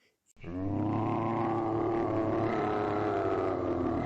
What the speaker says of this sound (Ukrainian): з одного з домів почувся страшний рик